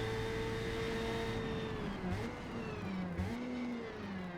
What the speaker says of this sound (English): It's pretty exciting to drive these little Mazdas.